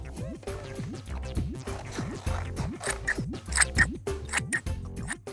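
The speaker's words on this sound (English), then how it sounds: "now we can cut these shapes out, but be careful because scissors are sharp" Scissors snip through green card shapes in a children's craft show, a series of crisp rhythmic cuts close to the microphone over a light, bouncy background music track.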